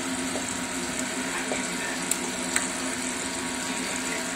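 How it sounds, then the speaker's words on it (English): Tomato pizza sauce simmering in a pan, a soft steady bubbling and sizzle with a couple of faint clicks, heard alone without talk. "let this simmer for about 5 minutes or so to get some flavor"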